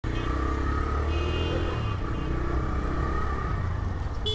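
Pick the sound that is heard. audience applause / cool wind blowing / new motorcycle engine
new motorcycle engine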